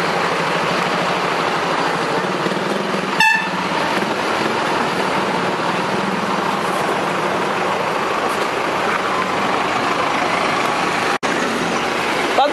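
Congested street traffic in a Jocâmara town centre: a continuous wash of idling and moving engines, with a sharp clatter early on and a brief dropout near the end, no voices.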